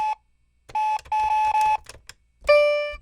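A dog-face toy keyboard plays short electronic beeping tones in a few separate bursts, close and clear, then ends on a brighter chiming note that rings out and fades.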